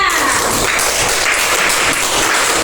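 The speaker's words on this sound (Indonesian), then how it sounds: "Tepuk tangan untuk kelompoknya Mbak Aisyah" Applause from a classroom group of students for a classmates' team, a dense burst of many hands clapping steadily and fairly loud throughout, filling the room with no voices standing out.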